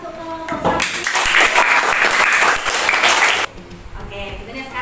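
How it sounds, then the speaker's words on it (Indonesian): A classroom of students applauds a group during an academic supervision lesson, with steady clapping for about three and a half seconds that cuts off abruptly, and voices underneath. "beri tepuk tangan untuk kelompok 1"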